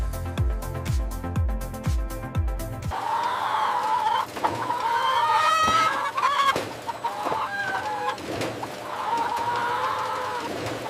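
Hens in a large poultry layer house holding 120,000 birds cluck and crow in a loud, dense chorus, preceded by a brief burst of rhythmic mechanical or musical tones.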